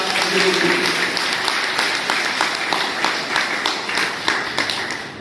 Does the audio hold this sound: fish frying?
no